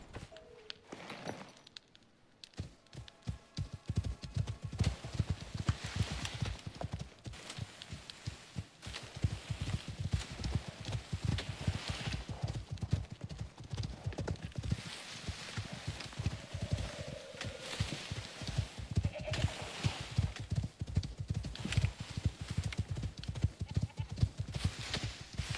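Horse hooves clip-clop steadily in the Icarus video game, a dense, rhythmic run of close thuds lasting throughout, with a brief whinny-like tone partway and no speech.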